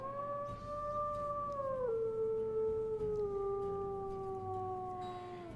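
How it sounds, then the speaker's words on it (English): A wolf in the video game WolfQuest gives a long, steady howl that slides gently downward in pitch, clear and alone. "And then let me play her howl."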